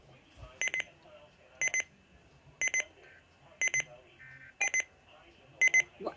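An Oregon Scientific WR601N weather radio alarm sounds in a room, sharp electronic beep bursts repeating about once a second, each burst a quick cluster of high pulses with short quiet gaps between, loud and close.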